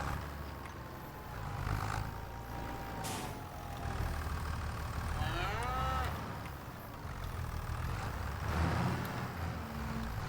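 Cattle at a ranch in Alma, Missouri, lowing in several drawn-out moos, some close and some more distant, over a low rumble like an idling engine.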